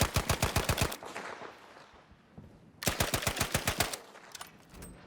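Suppressed M3 Grease Gun fired in Battlefield 5, two sustained automatic bursts of rapid, evenly spaced shots, each about a second long, separated by a quieter pause with lingering tail.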